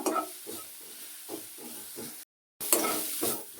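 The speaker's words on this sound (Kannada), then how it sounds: "ಇದನ್ನು ಚೆನ್ನಾಗಿ ಹುರಿಬೇಕು ಹುರಿದಷ್ಟು ಟೇಸ್ಟ್ ಆಗುತ್ತೆ" Chopped banana flower is stir-fried in a pan, with rhythmic stirring scrapes over a soft sizzle. The strokes repeat at a steady pace, and there is one short pause.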